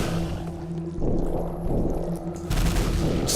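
Rapid nail gun fire in Quake on Nightmare difficulty, in the Azure Agony maze level, with dense bursts of shots over a low steady hum and heavier blasts toward the end.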